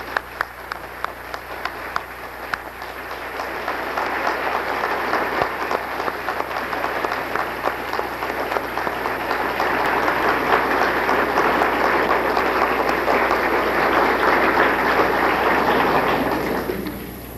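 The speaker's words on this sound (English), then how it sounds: "I would like to take just this moment to have one additional round of applause for" A university audience applauds Dr. Jack Kane, starting with scattered claps that swell into loud, sustained, dense applause before tapering off at the end.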